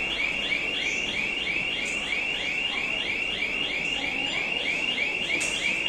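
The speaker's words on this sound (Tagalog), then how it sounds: "so nag-alarm, sakit sa tainga guys" A loud electronic store alarm wails in rapid repeating sweeps, steady and piercing throughout, with faint background noise underneath.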